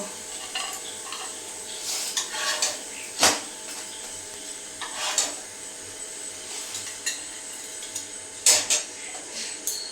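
Fried parathas are lifted onto a plate, with sharp intermittent clinks and scrapes of utensils against dishes over a soft background hiss of frying.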